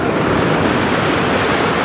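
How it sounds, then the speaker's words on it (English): Fast-moving river water rushes loudly and continuously, a dense broadband roar close by with no pauses and no voices. "This is very, very fast moving river."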